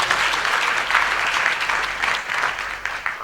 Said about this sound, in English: I would like to give them a thunderous round of applause